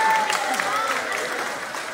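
Rally crowd in Cabuyo, Torrijos, Marinduque claps and cheers steadily through the short span, a dense mass of hands with some voices mixed in, tapering slightly toward the end.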